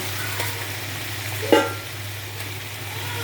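Fish frying in a pan of cooked-down spice masala, a soft steady sizzle with one brief louder spit midway, alone without voices.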